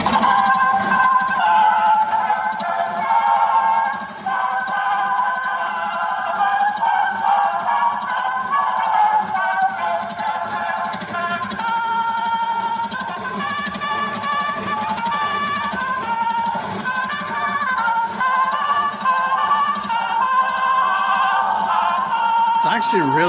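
An Emerson 1A phonograph plays a 78 rpm record loudly and noisily, tinny music with a wavering tone and surface crackle running throughout without a break.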